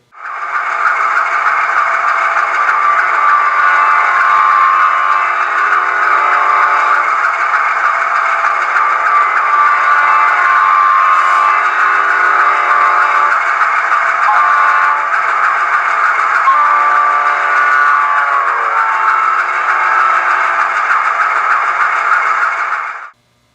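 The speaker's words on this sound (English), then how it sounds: "F5 activates the Doppler horn Rapido's got loaded onto this decoder." An HO scale Rapido GE U25B model locomotive in Frisco livery sounds its Doppler horn through a sound decoder: one long, steady, loud chord lasting over twenty seconds, with the pitch bending partway through before it cuts off.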